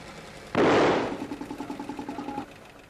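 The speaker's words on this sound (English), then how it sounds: "that's the backfire problem in a research engine" A single sharp bang from a hydrogen research engine backfiring on a bench rig, followed by about two seconds of rapid, evenly spaced mechanical pulses that fade before the engine falls quiet.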